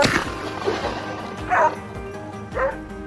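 A pack of hunting dogs bays and yelps at a large wild boar near the base of a slope during a boar hunt, with repeated loud barks and whimpering yips close by.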